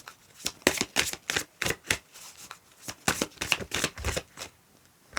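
Oracle cards are shuffled by hand in a rapid series of crisp riffling flicks, close and clear, with short gaps between bursts.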